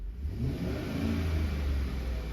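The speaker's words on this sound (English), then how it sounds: "I can rev it up, no problems, no backfires" A 2013 Chevy Tahoe engine revs up close in a smooth, sustained rise of rumbling engine noise with no backfires and no talking.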